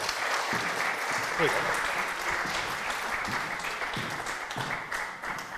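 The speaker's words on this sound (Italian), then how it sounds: "accogliamo con un applauso anche Maria Grazia" An indoor audience at an award ceremony applauds steadily throughout, with a brief spoken word over the clapping.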